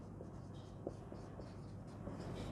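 A pen or pencil scratches across paper during a math lesson, with soft scribbling strokes and occasional taps over a low steady room hum, fairly quiet and with no speech.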